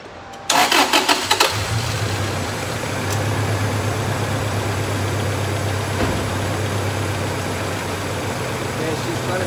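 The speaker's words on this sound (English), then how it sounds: "Let's start this vehicle up" A 1998 Toyota engine with a misfire cranks briefly, catches and settles into a rough, uneven idle that hums steadily up close for the rest of the stretch.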